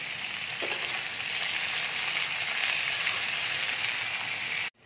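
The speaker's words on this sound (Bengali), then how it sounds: "পেঁয়াজটাও দিয়ে দিচ্ছি। লাল করে ভেজে নেব নুন হলুদ দিয়ে।" Onion fries with salt and turmeric in a pan, giving a loud, steady, close sizzle that hisses evenly and then cuts off abruptly at the end.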